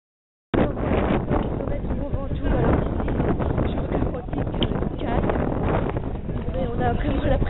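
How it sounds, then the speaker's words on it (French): Strong north wind buffets the microphone in a loud, continuous rushing roar, with voices faintly mixed in underneath. "On a vraiment la pression d'avoir le vent du nord qui vient en plein dans notre tête."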